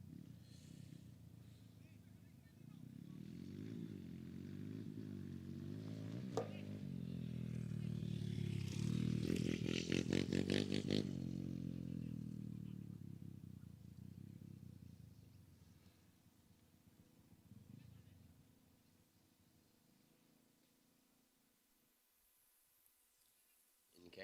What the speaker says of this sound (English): In case some of you might have been wondering about that motor noise, it's just gone past our screen just then.